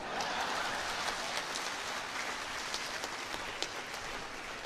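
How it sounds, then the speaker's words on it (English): Steady applause from an audience at a Uganda census results event, a dense even patter of many hands clapping with a few sharper claps, continuous and without talk. "Can we give him another round of applause?"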